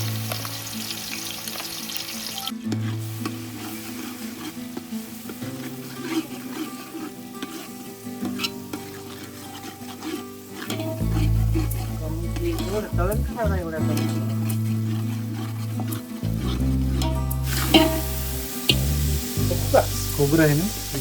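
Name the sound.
onion garlic paste frying in oil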